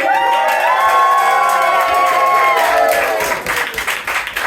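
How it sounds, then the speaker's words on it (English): An audience at a Stand Up on the Stour comedy night cheers loudly, with high whoops and shouts over clapping that swell together and then taper off as scattered claps continue. "Can I get a cheer for the longest Stand Up on the Stour title?"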